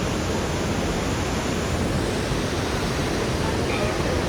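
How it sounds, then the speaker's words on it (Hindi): A swollen, strongly flowing mountain river near Badrinath roars steadily and loudly at close range, a dense unbroken wash of rushing water with no break. "तो देखो कितनी उफान पर है ये, बहुत तगड़ा पानी चल रहा है।"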